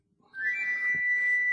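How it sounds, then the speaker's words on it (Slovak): A fuje, a Japanese whistle, sounds one clear, sustained high whistle tone that starts abruptly after a brief silence and holds steadily, close and fairly loud. "Keď ju priložíš k ústam z jednej strany, vylúdi melódiu, ktorá človeku učaruje."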